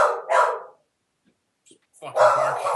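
A dog barks in short bursts, with a couple of loud woofs at the start, a brief silence, then more barking close by.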